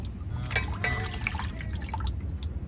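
Palva fish are rinsed in water in a kitchen, with soft splashes, drips and trickles scattered over a low background hum, quiet and close.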